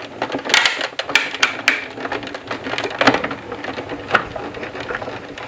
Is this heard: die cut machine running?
yes